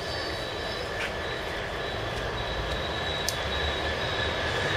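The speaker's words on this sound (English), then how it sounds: "It's a British train." An old British coal train passes through Peterborough station with a steady, loud rumble and rattle of wagons on the track, and faint wheel squeals ring out now and then.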